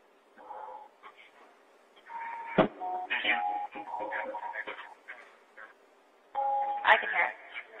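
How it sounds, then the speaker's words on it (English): A doorbell at a home sounds during a 911 call, its chime-like tones coming through a phone line in short bursts, with someone talking over and between the rings. "That's why they're ringing your doorbell."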